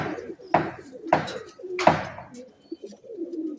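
Pigeons being paired by a keeper coo in three strong, close bursts in the first two seconds, followed by softer, lower murmuring.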